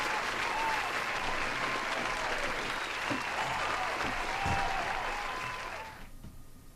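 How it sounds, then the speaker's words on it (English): A round of applause for a game winner, dense steady clapping with some crowd noise that cuts off abruptly near the end. "Once again, a nice round of applause for our winner."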